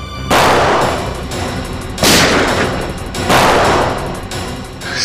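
Heavy gunfire booms in repeated loud bursts, about three big volleys with rattling shots between, dense and close, with no talking.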